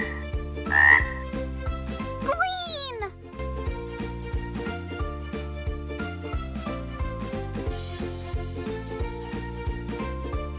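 A cartoon frog's croak in a children's colors song, a short rising call near the start over bouncy music, then the melody carries on alone.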